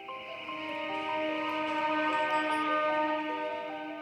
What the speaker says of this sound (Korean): 안식의 시작 20분 전에 알리는 사이렌 소리